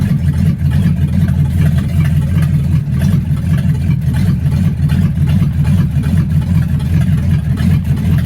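A 1962 Mercury Comet with a rebuilt C4 automatic transmission drives along, its engine giving a steady, loud, low rumble that continues without a break.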